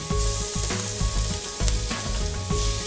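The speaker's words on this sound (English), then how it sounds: "Now add the chopped garlic, shallot, and tomato paste." Chopped garlic, shallot and tomato paste sauté in canola oil inside an Instant Pot, with a loud, close, continuous sizzle broken by repeated rhythmic scrapes of a stirring utensil.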